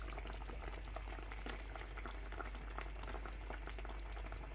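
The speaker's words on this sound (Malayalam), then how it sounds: "ഇപ്പം നമ്മൾ ഈ കറി തിളപ്പിച്ച് കഴിഞ്ഞു" Fish curry boiling in a pot, a continuous bubbling and gurgling simmer with a low steady rumble, close and even throughout, no voices.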